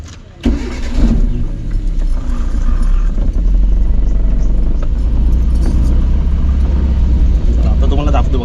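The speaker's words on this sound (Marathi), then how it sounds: "आता ही गाडी आता चालू केली ना" A car engine cranks and catches, then settles into a steady, loud idle close by, with people talking over the running motor.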